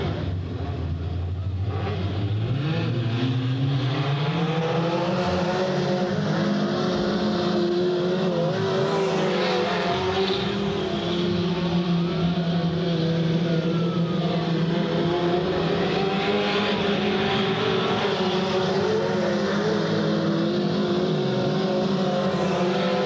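Modified sportsman race cars roar around Delta Speedway oval, a pack of engines droning and revving continuously with rising and falling pitch as cars pass, loud and sustained throughout.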